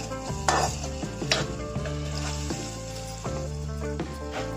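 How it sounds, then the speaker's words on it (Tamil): Chopped onions sizzle and get stirred in a hot pan for brinjal and drumstick sambar. The steady frying hiss and scraping stirs sit under background music. "இந்த பாருங்க நல்லா இந்த மெத்தட்ல வதக்கணுங்க வெங்காயத்தை"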